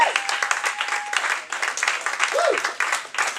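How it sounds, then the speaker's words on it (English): A crowd claps and cheers for a comedian at a live comedy show, the applause fluttering on with whoops and shouts layered over it, a brief whistle-like tone rising and falling partway through. "Give him a nice round of applause."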